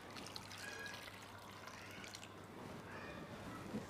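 Kat water, a thin spiced liquid, being poured into a simmering Maharashtrian amti for Holi, a steady soft trickle and splash that runs continuously and close by, with a faint clink near the end.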